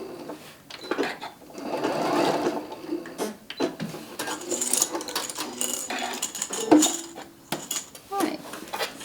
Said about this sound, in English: I just come and sew over my stitches just a little bit